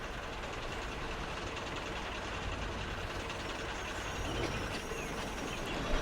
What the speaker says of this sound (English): a very delayed motorail train was finally able to continue on its journey